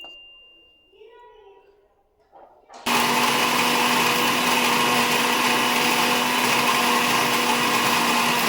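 An electric mixer grinder whirs loudly and steadily, grinding masala for prawn pickle, starting abruptly after a few quiet seconds of faint kitchen sounds and running without letup.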